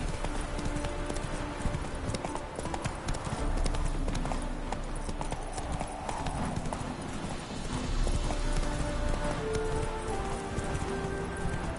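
Roach the horse galloping in The Witcher 3 on PS4, a fast continuous clatter of hooves with rumbling game sound beneath and a faint whinny.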